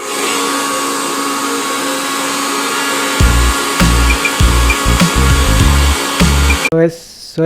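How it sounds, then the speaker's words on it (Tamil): A mixer grinder blending a chocolate milkshake with Milo, a loud steady motor whine that deepens into a heavier churning roar partway through, then cuts off abruptly with a brief rattle at the end. "ஒரு மீடியம் ஸ்பீடில் வச்சு நீங்கள் கிரைண்டர் ரன் பண்ணால் காணும்"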